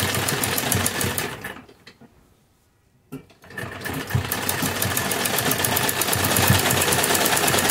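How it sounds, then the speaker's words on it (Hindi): A sewing machine stitches lace onto the neck of a kurti, running in a fast, steady mechanical whir close by, stopping briefly for about a second before starting up again and continuing. "गले की इस तरफ से सिलाई लगाएंगे।"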